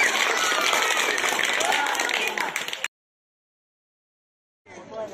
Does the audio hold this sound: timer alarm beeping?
no